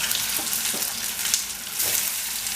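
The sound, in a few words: spice-coated boiled eggs frying in oil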